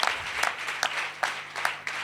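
Sparse, uneven clapping from a church congregation listening to a preacher, separate hand claps standing out above a low murmur of applause, nearby and at modest volume.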